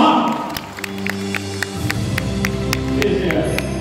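Guests at a Chinese wedding applaud the groom, a full round of clapping from a crowd, with sharp individual claps standing out over sustained music.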